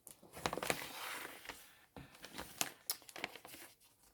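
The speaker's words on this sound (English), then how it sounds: "So it's a case of folding along that spine" Paper folded and creased along a book spine, with repeated soft crinkling and rustling swipes, close and fairly quiet, no talking.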